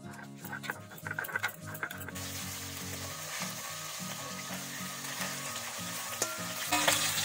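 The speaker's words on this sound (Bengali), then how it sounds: "মাছগুলো ভাজা হয়ে গেছে" Tangra fish frying in oil, a sizzling crackle that starts patchy with intermittent clatter and then settles into a steady, moderately faint fry, with a brief louder burst near the end.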